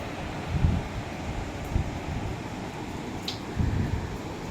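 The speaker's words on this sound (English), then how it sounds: "Still a lot of gusts." Hurricane Ian wind gusts blowing through big trees, a constant roar with rumbling microphone buffeting that surges in several bursts.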